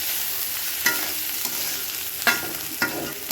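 Egg curry masala with ginger paste and chopped garlic fries in a pan, giving a steady broad sizzle with a few sharp spoon-scrape stirs cutting through it, close and fairly loud.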